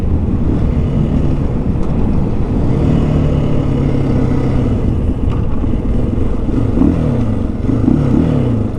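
A 2023 KTM 500 EXC-F motorcycle riding at speed around 69 mph, a continuous loud engine drone mixed with heavy wind rush, close, with no talking.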